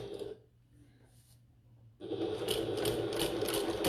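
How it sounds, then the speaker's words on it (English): A sewing machine stitches a seam across the end of a bucket tote, starting after a short pause and running fast and steady, close up and alone. "now I'm going to sew across the end here with a 3/8 of an inch seam allowance"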